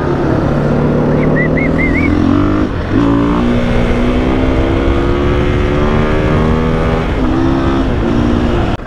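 Engine of a 2021 KTM 500 EXC dirt bike, loud and close, revving and rising through pitch in continuous pulls, with a throaty buzzing roar throughout.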